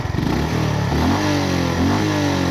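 A 2025 Honda GB350 motorcycle engine revs loudly nearby, its pitch climbing and falling in repeated surges over a throaty idle.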